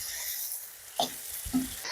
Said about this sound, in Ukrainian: Смажимо м'ясо хвилин 15, щоб воно добре обжарилось з усіх боків.